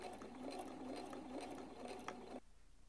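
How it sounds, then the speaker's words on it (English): A sewing machine runs steadily, top stitching along a flat collar seam on a bodice facing: a fast, even mechanical whir close by that stops abruptly near the end, leaving quiet room tone. "I'm sewing right along that seam line there"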